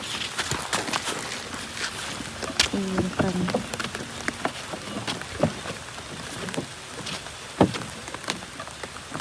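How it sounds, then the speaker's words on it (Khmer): Rain patters and drips around a boat riding along a quiet waterway toward a floating house, heard as scattered taps and splashes over a broad wash of noise, with brief faint voices in the background. "ភ្លៀងមែនតើហ្មង"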